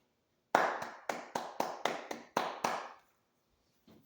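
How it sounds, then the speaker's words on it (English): Sharp hand claps in a quick series of eight, evenly spaced and fairly close, each with a short room decay, then a pause and one faint final tap, with no voices. "let me hit dog with the fancy slash proper hand clap."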